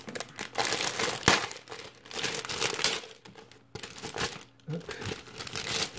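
Crinkling of a resealable plastic polybag from a LEGO Bionicle magazine as it is handled and opened, a dense, close, loud rustle in several bursts with short pauses, and a brief spoken word.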